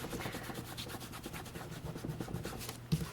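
A finger rubs and blends Gelato colour over embossed cardstock, giving a quiet, steady scratchy rubbing in short repeated strokes, close up with no talking.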